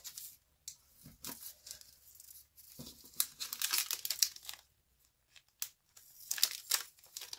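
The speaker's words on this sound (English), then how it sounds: "I'm going to grab some glue dots, and I'm going to stick some glue dots." Crinkly, papery peeling of glue dots from their backing sheet, in irregular short bursts with brief quiet gaps, close and fairly soft.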